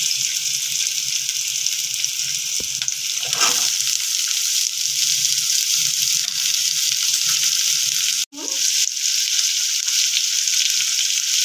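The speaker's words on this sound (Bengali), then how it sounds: "পেঁয়াজটা অল্প ভাজা হয়ে গেছে, এবার আলুটা দিয়ে দিচ্ছি।" Steady, loud sizzling of potatoes frying in hot oil with lightly fried onion, with a brief clatter partway through and no talking.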